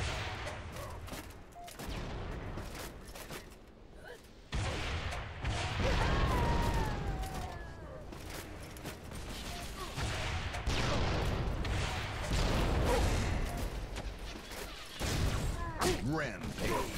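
Rocket launcher blasts and pistol shots in Halo: The Master Chief Collection, dense repeated booms and cracks amid ongoing combat noise, loud and continuous with a few brief lulls.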